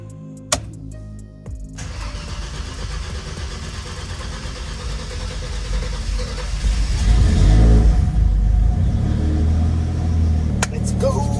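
A turbocharged Mercedes M104 engine cranks and catches, settles into a rough idle, then is revved hard to a loud roar before easing back, heard close up.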